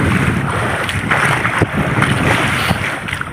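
Strong habagat monsoon wind roars steadily across the sea near a fishing boat, buffeting the microphone with a constant loud rush and gusts.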